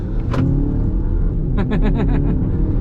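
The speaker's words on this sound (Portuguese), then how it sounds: "Eu vou botar já no modo Sport aqui e vamos dar uma pisadinha." Ram Rampage Rebel 2.0 Turbo pickup in Sport mode, its engine droning steadily close inside the cabin and rising in a brief surge of revs near the end.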